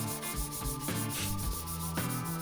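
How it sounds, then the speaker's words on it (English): Back-and-forth sanding on a metal bike stem from an early-1990s mountain bike, a constant gritty scraping with repeated strokes, heard up close and alone. "sanding again."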